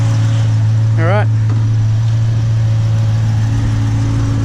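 An LS V8-swapped AE94 Toyota Corolla rumbles loudly and steadily close by as it rolls slowly over a car scale, its low engine drone constant throughout, with a brief squeaky chirp and a voice partly over it.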